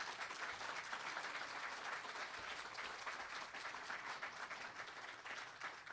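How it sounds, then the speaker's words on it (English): At a 2018 League of Women Voters forum for Republican 9th US Congressional District candidates, the audience gives a sustained round of applause, an even wash of clapping heard from some distance and fairly faint, with no speech. "Could we have a round of applause now for all the candidates?"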